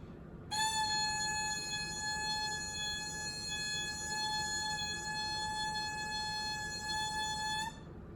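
A lone oboe reed sounds one steady, buzzy, harmonic-rich tone held for about seven seconds with no accompaniment.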